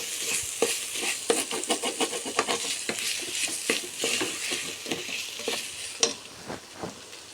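Tomato masala stirred in a pan for seera, with repeated scraping and clinking strokes over a steady close sizzle, no voices.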